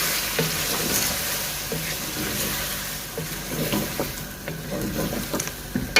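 Chicken korma with masala frying and sizzling in a pan, with steady crackling and stirring scrapes close up, no talking.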